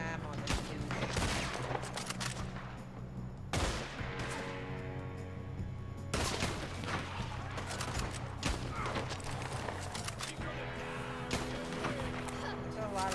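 Rapid, loud bursts of automatic gunfire in a PlayStation shooter at night, near and dense with short pauses, a player's voice talking over the shots.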